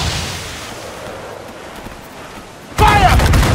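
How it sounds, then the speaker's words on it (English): Naval cannons fire a volley in Assassin's Creed IV Black Flag, a low roaring wash of ship battle noise that breaks into a sudden loud burst of blasts near the end. "They're firing a volley!"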